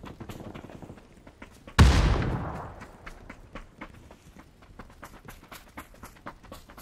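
A single loud gunshot rings out close by in the battle royale game PUBG on the Erangel map, its sharp crack followed by a decaying tail, with quieter rhythmic footstep-like thumps continuing afterward.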